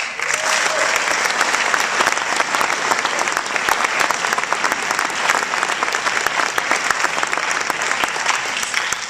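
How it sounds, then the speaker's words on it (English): Graduates and guests at a QUEST twentieth-anniversary celebration break into a big, continuous round of applause, dense and even throughout with no talk over it. "you ought to give yourself a big round of applause"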